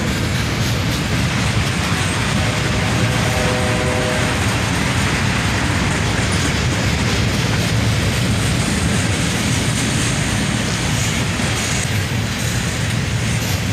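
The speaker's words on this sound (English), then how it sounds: "A CSX manifest train coming across the bridge, led by an ES40DC and a" CSX manifest freight train led by an ES40DC and a CM44AH rebuild locomotive rolling across a bridge, a loud, steady rumble and clatter of wheels and cars filling the whole stretch without letup.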